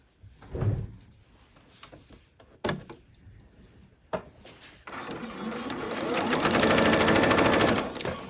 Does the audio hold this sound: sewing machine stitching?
yes